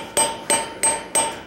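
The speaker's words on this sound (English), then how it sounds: "I let the set hammer dig into them a little bit there." At a blacksmithing conference, a set hammer is struck on steel in five evenly spaced, loud, ringing metallic taps, close up and with no talking.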